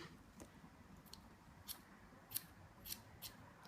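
Scissors snipping a child's hair during a home haircut, a handful of faint, crisp snips spaced irregularly over a quiet background with no talking.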